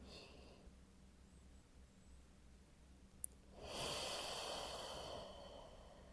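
A single slow, deep exhale during a gentle prenatal Pilates stretch, a soft airy breath swelling from quiet and fading over a couple of seconds, close and faint with no speech.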